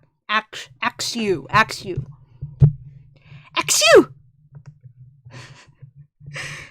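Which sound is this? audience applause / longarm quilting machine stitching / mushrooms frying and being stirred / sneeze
sneeze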